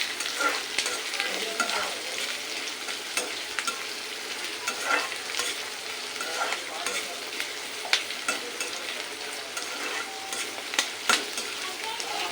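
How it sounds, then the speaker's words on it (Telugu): Onions frying in a pan over a high flame, a dense steady sizzle with occasional scraping stir sounds, close and continuous with no talking. "ఇప్పుడు ఈ ఉల్లిగడ్డలు కొద్దిగా వేగాలి, కొద్దిగా అంటే బాగా వేగాలి ఫ్రెండ్స్"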